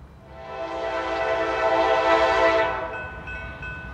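A Norfolk Southern train passes with its horn sounding, a loud sustained blast that swells and fades over a few seconds as the locomotive goes by, with rail rumble underneath.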